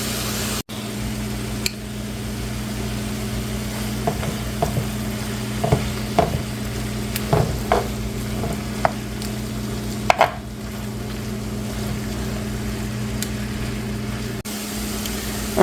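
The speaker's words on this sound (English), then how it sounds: "keep stir frying it until it looks a little brown" Crumbled tofu stir-fried in a pan for a cheesy tofu scramble, a low sizzle under a steady hum, punctuated by a series of spatula taps and scrapes in the middle, close by and without talking.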